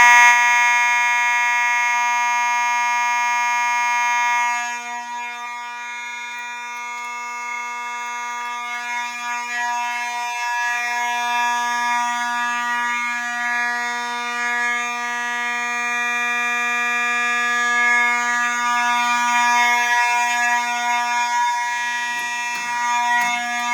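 A building fire alarm system under test sounds continuously, a steady loud electronic tone with a harmonic buzz that holds for over twenty seconds with no talking.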